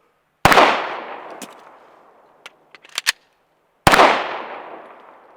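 Two loud, sharp shots from a Glock 19 pistol, a few seconds apart, each with a decaying echo, with a cluster of small metallic clicks and handling noises between them.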